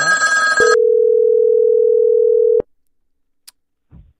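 A telephone on a call-in show line gives one short steady electronic ring tone of about two seconds, then stops abruptly, followed by a faint click and near silence.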